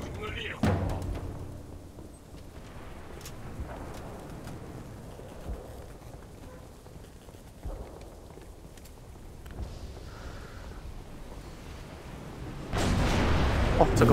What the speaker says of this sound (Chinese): 哇，这个炮超酷的！